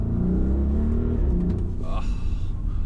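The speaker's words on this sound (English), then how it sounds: "I hope the mic is picking up that lovely V8." Audi RSQ8 SUV with a V8 engine, heard from inside while driving, as a steady low rumbling drone with a brief rise in revs near the end, with faint talk over it.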